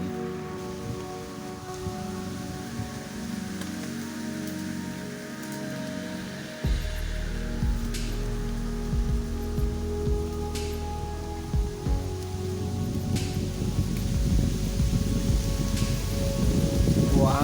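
Steady rain pattering at an outdoor fishing spot, a dense broadband hiss that grows louder partway through and carries on with low rumbling wind noise and no talking.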